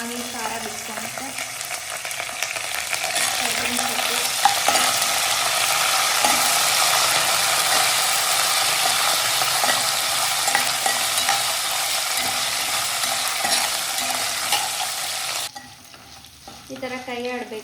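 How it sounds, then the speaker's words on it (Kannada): Chillies frying in a pan alongside peanuts and curry leaves: a loud, continuous sizzle with rattling, scraping stirring that runs for many seconds before dropping away abruptly near the end. "ಇವಾಗ ಅದ್ರ ಜೊತೆ ಚಿಲ್ಲಿನೂ ಫ್ರೈ ಆಗಬೇಕು."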